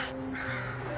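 Young crows cawing close by, a steady harsh call filling the whole second.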